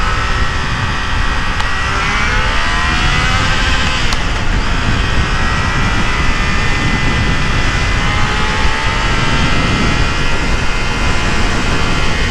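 Steady roaring wind blast buffets a rider on a Triumph Trident 660 motorcycle, loud and continuous throughout with the engine droning underneath.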